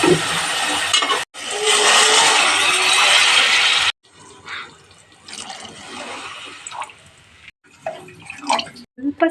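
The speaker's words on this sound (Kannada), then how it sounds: "ಒಂದು ಮೂರು ಗ್ಲಾಸಷ್ಟು ನೀರನ್ನು ಸೇರಿಸ್ಕೊಳ್ಳೋಣ" About three glasses of water pour into a cooking pan in a loud, steady rush for a few seconds, then quieter clinks and drips follow as the flow stops; no one speaks.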